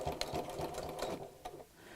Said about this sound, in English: I am going to move the needle across on my sewing machine.